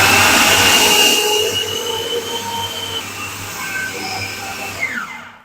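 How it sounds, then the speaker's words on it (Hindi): An electric food chopper whirs steadily while blending kebab ingredients with salt and chili, a loud continuous motor hum that slowly winds down and stops near the end. "1 मिनट तक फिर से मैंने चॉपर को चला के सारी चीज़ों को मिक्स कर लिया है"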